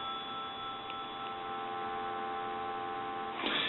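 An ITT rotary desk telephone's steady, continuous dial tone hums at moderate level, with a faint click near the end.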